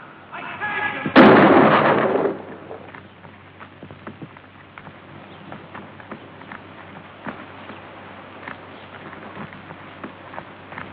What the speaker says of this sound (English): Some posse man shooting a guy with his hands up.